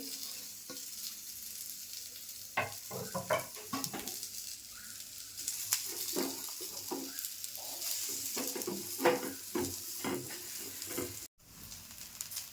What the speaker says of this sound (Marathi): आता मी कांदा कापून घेतला ना तो छान असं भाजून घेते